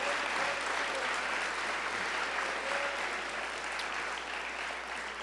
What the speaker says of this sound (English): Can all the students just give a big round of applause to the fantastic teachers who are here today?